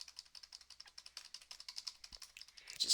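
Rapid, quiet computer keyboard typing with repeated key presses for a Ctrl+Z undo, close and crisp, ending in a slightly louder burst of taps.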